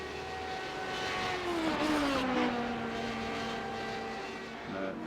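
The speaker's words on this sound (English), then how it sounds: "I can hear a car not that far from him." A Radical race car passes at the Road Atlanta circuit, its engine note rising, then sliding down in pitch as it goes by at moderate distance, fairly faint and alone.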